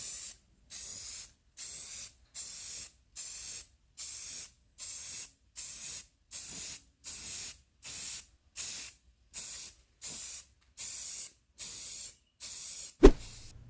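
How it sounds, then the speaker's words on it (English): Rust-Oleum Ultra Matte spray paint in Sand Dollar hisses from the can onto a thrifted piece being upcycled, in about fourteen short, even bursts with brief pauses between, close and steady, followed by a sharp clack at the end. "For our paint, I'm just gonna give this a layer of Rust-Oleum Ultra Matte"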